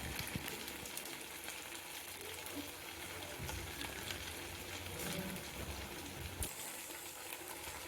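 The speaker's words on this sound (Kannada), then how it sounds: "ಕೆಂಪಗಾಗ ಒಂದು ಸ್ವಲ್ಪ ಮೇಲೆ ಫ್ರೈ ಮಾಡ್ಕೊತೀರ." Sabudana vada sizzle as they fry in hot oil, a steady dense crackling hiss that fills the space, fairly quiet and continuous, with no speech over it.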